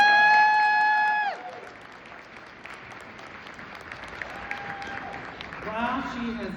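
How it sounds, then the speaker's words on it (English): Brief applause from an audience honoring an education support professional at a union event, starting after a sustained musical tone fades and continuing at moderate level with faint crowd noise and a voice near the end. "Give her a round of applause."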